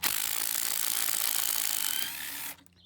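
Steady rapid metallic ratcheting from a hand tool working on a power washer pump, close and fairly loud for over two seconds, then stopping abruptly into near quiet.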